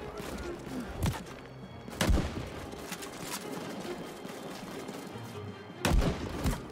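Grenade blasts and gunfire from the Land of War 1939 German invasion of Poland game, with three heavy thumping explosions spaced apart over a muffled background of distant battle noise and faint voices.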